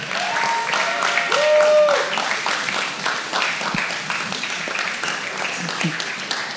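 A church congregation applauding and cheering in praise, a dense continuous wash of clapping and crowd noise with raised voices, fairly loud and filling the room throughout.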